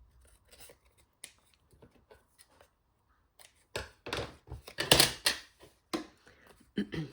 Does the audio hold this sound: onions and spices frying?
no